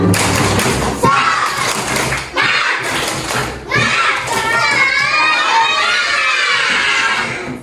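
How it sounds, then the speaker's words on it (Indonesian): A class of schoolchildren performing a rhythmic spirit clap and shouting together, loud group claps and thumps followed by excited overlapping yells and chatter close by. "Kita teriakin aja mereka. Tepuk semangat."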